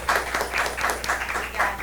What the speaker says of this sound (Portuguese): pedindo aí a salva de palmas para as 3 maravilhosas